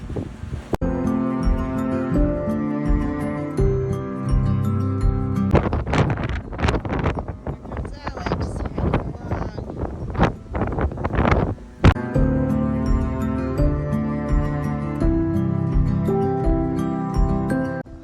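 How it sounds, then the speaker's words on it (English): Strong wind howls across an exposed spot in the Cairngorm mountains of Scotland, buffeting the microphone in loud roaring gusts that fade into calmer stretches. "The wind is howling."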